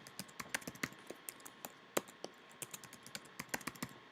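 Rapid clicks of fingers typing a password on a computer keyboard, a quick uneven run of close, crisp keystrokes with short pauses and no talking.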